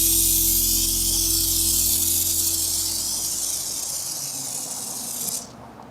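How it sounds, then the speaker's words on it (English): Pump spray bottle misting tire cleaner onto a wheel: a loud, steady hiss of spray lasting several seconds before cutting off abruptly near the end. "I'm gonna give it a couple more pumps and one last spray"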